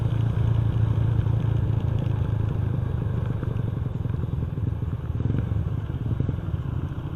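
Motorcycle with a faulty regulator on the road, a steady low engine drone with some rattling clatter, fairly close and continuous throughout.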